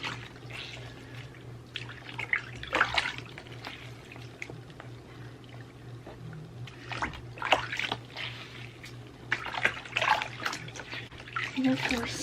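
Bath water trickling and splashing softly while a newborn baby girl is rinsed in a tub, with intermittent pours and drips close by and someone talking quietly over a low background hum.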